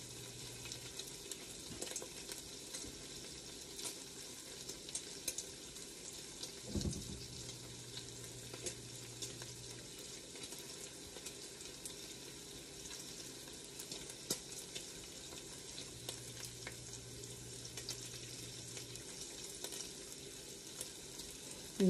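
Bacon pieces sizzling and frying in a blue enameled cast iron Dutch oven, a steady close crackle and hiss that runs on without pause, with occasional faint clinks and no talking.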